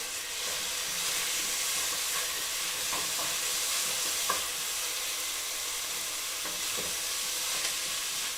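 Garlic stirred in a hot pan, a steady close sizzle and hiss with occasional scraping stir strokes, no talking.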